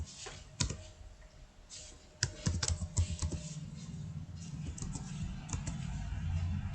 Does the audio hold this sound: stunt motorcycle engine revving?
no